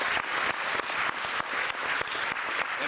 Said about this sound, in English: Let's have a round of applause for our contestants.